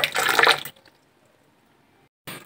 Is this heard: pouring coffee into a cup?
yes